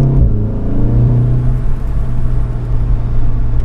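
Volkswagen Golf R engine and exhaust with the resonator deleted, a steady low rumbling drone with a brief rev swell at the start, close and loud with no talk.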